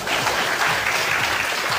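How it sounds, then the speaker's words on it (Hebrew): An audience claps loudly and steadily, a thick wash of close applause that holds at an even level from start to finish without speech. "מגיע לו כפיים, בהחלט."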